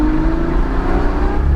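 Ferrari FF V12 on a mountain road, a sustained close engine note with a steady mechanical whir that swells slightly toward the end, no voices over it.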